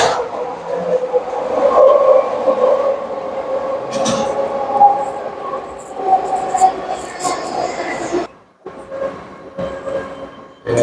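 A SkyTrain runs at Metrotown station in Burnaby, Vancouver, with a loud, tonal rail whine and rumble that holds for several seconds, then drops away abruptly before a quieter tail.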